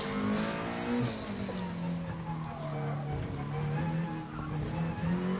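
A race car engine in a sim racing game at Barcelona, holding a loud, steady high-revving drone with slight pitch shifts through a corner, and a voice faintly underneath.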